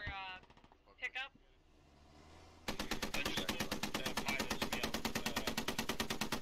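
Rapid automatic gunfire from the military shooter game Squad erupts halfway through, a loud, dense, continuous stream of shots that follows brief radio-style voices talking.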